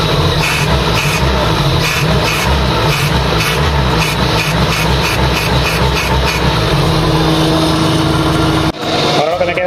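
Car engine with a Pierburg 2E carburetor idling at about 900 rpm, a loud, steady close drone that holds its pitch throughout, with someone talking over it.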